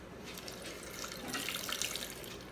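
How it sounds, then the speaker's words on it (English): Liquid poured into a blender makes a steady, close splashing stream, like water running from a tap, that lasts a couple of seconds with no talking. "Pour this in here."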